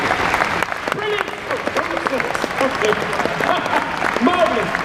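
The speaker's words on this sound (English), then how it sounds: "Round of applause, ladies and gentlemen." An audience at the Gadget Show at NEC Birmingham applauds Sean Connolly of the University of Coventry, giving steady, moderately loud clapping with scattered voices and cheers mixed in throughout.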